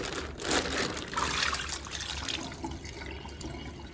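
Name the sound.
dirty laundry water dumped out of a hotel sink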